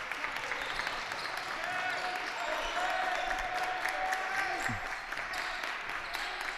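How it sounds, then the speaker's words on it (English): Spectators at a high school boys basketball game cheer and clap in a steady, moderately distant crowd roar that fills the gym, with faint calls rising over the din. "A nice cheering section here."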